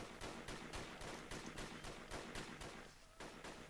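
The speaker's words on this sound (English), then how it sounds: "Enemy gunfire." Enemy gunfire in the video game Project Reality Arma 2, a rapid string of sharp, evenly spaced shots fired in quick rhythm, fairly distant and faint, with a brief gap near the end.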